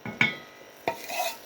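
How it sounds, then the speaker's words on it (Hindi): Semolina is stirred into a pan of sweet halwa with a spoon, giving two or three quick scraping strokes against the pan and a soft sizzle underneath, close up, with no voices. "इसको साथ में फ़ौरन हिला भी लें"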